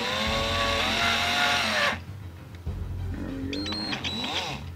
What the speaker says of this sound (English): Let the power drill go.